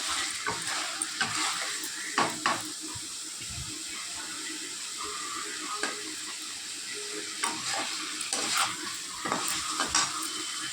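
Mushrooms, potatoes and spices sauté in oil in a pan, giving a steady close sizzle broken by intermittent scraping stirs, with no voices over the cooking.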